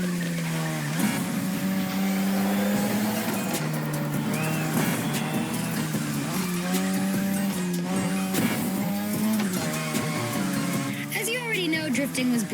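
A car drifts around a Japanese drift track in The Crew Motorfest, its engine droning under long, wavering tire squeals, loud and continuous, with a voice talking over parts of it.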